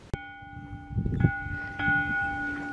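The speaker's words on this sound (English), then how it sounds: "Man is ringing the school bell." A school bell rings out in a few separate strikes, each tone lingering and ringing on, heard from a moderate distance at an old mining ghost town museum in Yuma, Arizona.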